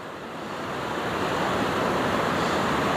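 Waves break over a shallow sandbank in open sea, a loud continuous wash of surf and foam with wind rushing across the microphone, steady and unbroken throughout.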